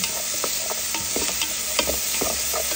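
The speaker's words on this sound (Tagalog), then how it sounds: "Haluin lang natin, haluin hanggang maluto ang sibuyas na bumango siya." Onions sauté in a pan for sopas soup, sizzling steadily while a utensil stirs and scrapes through them in irregular strokes, close and continuous, with no voices.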